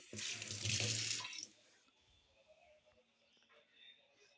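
Hands are washed under a running tap, a close, splashing rush of water for about a second before it stops, leaving faint clinks and a quiet room.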